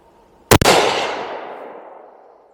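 A single loud, close rifle shot fires a .308 Fusion Tipped 180 grain round outdoors, a sharp crack with a quick second report, then a long echoing rumble fading over two seconds.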